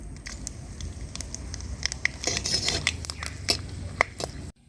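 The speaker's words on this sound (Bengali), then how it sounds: "তেলটা গরম হয়ে গেছে, তেলের মধ্যে দিয়ে দেবো ফোড়ন।" Bay leaves, dried red chillies and whole garam masala (cloves, cinnamon, cardamom, peppercorns, mace) sizzle in hot oil for a Kolkata-style chicken rezala, giving a steady close crackle with scattered sharper pops and no speech.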